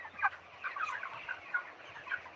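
Chickens in a crowded poultry shed, a faint continuous chorus of overlapping clucks and calls with a few sharper cries rising out of the din.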